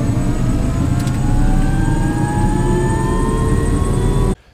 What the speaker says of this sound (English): helicopter ride over Antarctica.